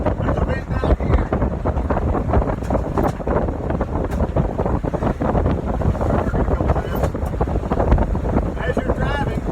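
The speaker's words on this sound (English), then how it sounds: "I'm going to go ahead and turn the vent on high" Car interior vent fan blowing on high in a vehicle with no windshield, a loud, steady broadband rush of air running throughout without a break.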